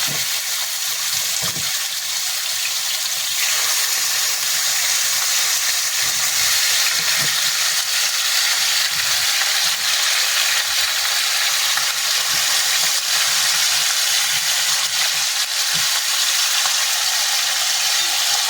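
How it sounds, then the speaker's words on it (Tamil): Chicken pieces frying in hot ghee for a tomato-free chicken curry, a steady, dense sizzle and hiss that holds evenly throughout, close and fairly loud, with faint stirring bumps and no talk. "நெய் பார்த்திங்கன்னா நல்லா சூடாகிட்டு இப்போ சிக்கனை அதில் போட்டுக்கலாம்."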